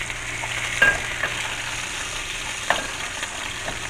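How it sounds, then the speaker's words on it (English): Salmon fries in a pan, a steady close sizzle with a couple of faint utensil clicks, and no talking. "while our fish is being fried"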